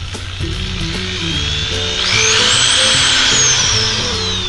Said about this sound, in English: we have the drill